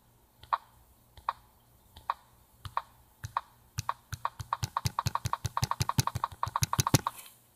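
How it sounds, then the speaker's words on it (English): Clicks from a tablet's on-screen keyboard as keys are pressed while typing. A few sparse, crisp taps give way to a quick, steady run of close, sharp clicks, with no talking. "you hear all those audible clicks. That's because we have the sound on key press."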